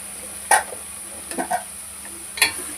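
Spoon stirring turmeric and salt into a broad bean curry in a pan, a few sparse scraping clinks spaced apart over a quiet sizzle and steady background hum.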